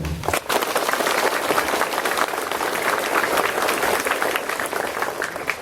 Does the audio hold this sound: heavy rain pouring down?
no